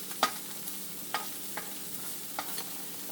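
Onions and carrots fry in a pan for fried rice, a soft continuous sizzle broken by a few sharp scrapes and stirring clicks.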